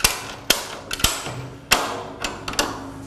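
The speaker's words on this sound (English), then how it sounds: "Then we can tension up the ratchet." A ratchet strap is cranked tight around a drum on a pneumatic telescopic drum rotator, giving a handful of sharp metallic clicks and clacks at uneven intervals, fairly close and with no talking.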